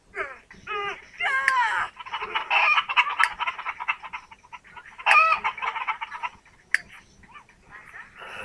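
Chickens in The Sims 3 video game cluck and squawk in repeated bursts, with a few rising crow-like calls, fairly close and steady over several seconds against a soft game background.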